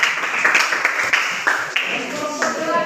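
Scattered applause from a small group in a classroom after a group presentation, steady clapping throughout, with a few voices emerging near the end.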